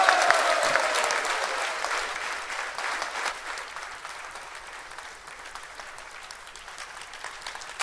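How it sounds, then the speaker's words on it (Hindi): Audience at a morning lecture breaks into loud, dense applause that slowly fades yet keeps going throughout, with a voice briefly heard at the start. "इनकी तालियां बजाइए, गड़गड़ाहट हो रही है तालियों की"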